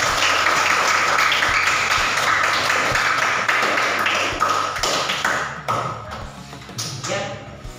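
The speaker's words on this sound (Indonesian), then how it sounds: "Hari Bapak tepuk tangan lagi untuk kita semua" Schoolchildren in a classroom clap their hands together in a loud, close burst of sharp slaps that thins out toward the end, with some voices mixed in.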